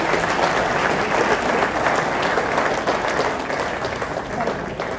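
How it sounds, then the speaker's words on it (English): Crowd applause fills a forex expo hall, a thick continuous patter of many hands clapping at steady loudness for several seconds with no speech on top. "So give yourselves a round of applause."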